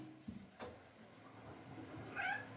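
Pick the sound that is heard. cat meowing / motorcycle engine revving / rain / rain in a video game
cat meowing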